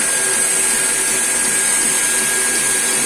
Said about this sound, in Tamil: ஹை ப்ரெஷர் பம்பு ஸ்டார்ட் ஆகிடுச்சு